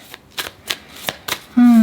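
A deck of tarot cards is shuffled by hand in several quick riffling bursts, close and crisp, followed by a brief sustained tone at the end.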